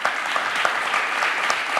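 An audience claps warmly at a talk event, a dense, steady burst of applause from a seated crowd filling the whole moment without any voices.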